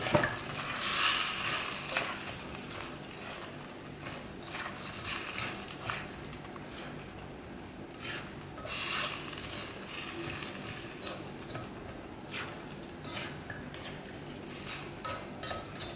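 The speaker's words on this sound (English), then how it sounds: "we're just going to quickly coat the cauliflower" Fried cauliflower for gobi manchurian is tossed in sauce in a pan, giving a soft sizzle with intermittent scraping strokes of a utensil, fairly quiet and steady throughout without talking.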